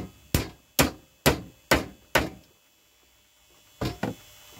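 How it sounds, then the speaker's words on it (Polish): A hammer knocks copper ore from rock in a copper mine: five loud, evenly spaced sharp strikes, a pause, then two quicker blows close together, with no talk. "zbijemy młotkiem, jak się uda."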